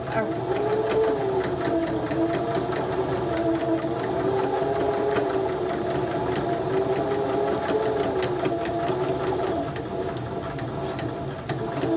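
A sewing machine runs continuously as it stitches fabric for a bookmark, giving a steady, close mechanical whir with a rapid rhythmic needle beat throughout.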